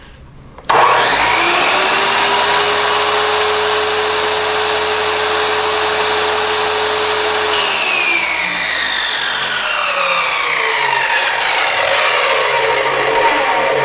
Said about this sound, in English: Let's take a look at the noise level for the Harbor Freight miter.